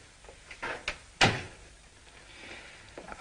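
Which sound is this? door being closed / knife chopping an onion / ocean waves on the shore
door being closed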